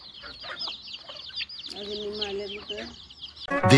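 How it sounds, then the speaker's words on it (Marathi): A crowd of chickens in a Konkan village yard clucks busily at close range, overlapping bursts of clucks and squawks piling up and growing louder toward the end, with some voices mixed in. "जत्राच भरली जा कोंबड्यांची"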